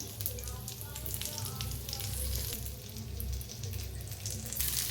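Brinjal slices garnished with coriander roast on a hot tawa over low gas, giving a steady close sizzle and hiss that carries through the whole stretch with no talking.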